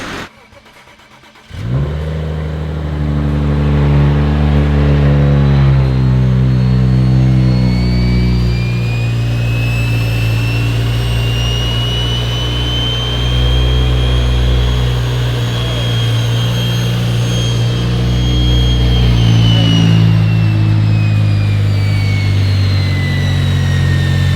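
A BMW 335i with an N55 engine and big single turbo running loud and close, a steady deep drone with a rising whine that sweeps up and levels off over a long stretch as the engine revs.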